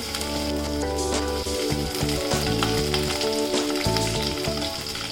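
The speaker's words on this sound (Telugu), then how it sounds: "వన్ టీ స్పూన్ పోపు దినుసులు పావు టీ స్పూన్ మెంతులు వేసి వేగిన తర్వాత ఒక ఎండుమిర్చి దంచుకున్న వెల్లుల్లి పచ్చిమిర్చి" Whole tempering spices, fenugreek seeds, a dried red chilli, crushed garlic and green chillies sizzle in hot oil for a curry, a steady close frying hiss with soft background music and no talking.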